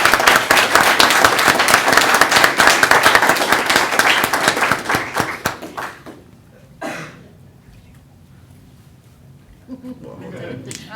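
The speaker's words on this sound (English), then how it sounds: "Let's have a round of applause." Audience at a career signing ceremony breaking into loud applause, a dense burst of many hands clapping that fades out after about six seconds, followed by quieter room sounds and brief voices.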